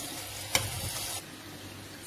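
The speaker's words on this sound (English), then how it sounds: "So now I'm ready to fry my potatoes." Potatoes frying in a pan with salt and egg-yellow food coloring, a soft steady sizzle with one sharp clatter of stirring near the start, the hiss easing slightly partway through.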